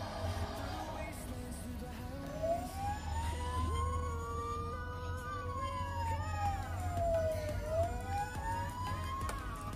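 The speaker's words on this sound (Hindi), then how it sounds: "इसमें फायर ब्रिगेड के तरीके से साउंड आती है" A German-made Hamleys toy fire truck plays its electronic fire-brigade siren, a loud, close wail that rises and falls in long slow sweeps over a low droning hum.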